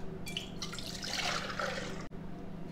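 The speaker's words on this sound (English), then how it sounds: "Pour in our 2 cups of half and half," Half and half poured into a metal bowl while making mint ice cream, a steady close liquid splashing and trickling for a few seconds with a brief break near the end.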